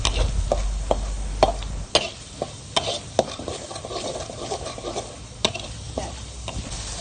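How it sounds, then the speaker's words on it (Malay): Sambal being stirred in a pan, with irregular sharp utensil scrapes and taps against the pan over a soft continuous sizzle of frying, close up and without talk. "dan kacau sambal ini sehingga sebati."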